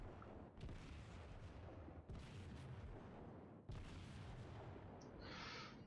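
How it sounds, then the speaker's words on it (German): Battleship main guns fire in the naval combat game World of Warships: three heavy, booming salvos arrive a second or two apart, each rolling off into a rumbling tail. A sharp, higher burst follows near the end. "Jetzt will ich genaue Schüsse abgeben."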